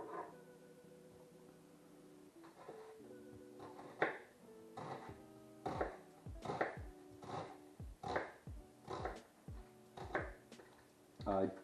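A knife chops through an onion on a cutting board in a string of crisp, regular thuds that pick up pace after a quiet start, with tonal background music throughout.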